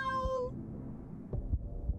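A cat meows in the Wasteland 3 video game, a single clear drawn-out meow at the start followed by low thumping game background sounds.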